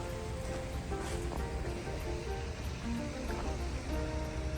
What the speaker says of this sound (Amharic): እዚህ ጋር የሆነች ትንሽ ፏፏቴ ነገር አለች።